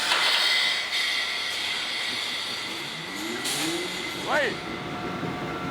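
A huge straight-eight two-stroke supercharged diesel of about 24,000 horsepower starts up with a loud, steady hissing roar and droning tones. A voice calls out briefly partway through.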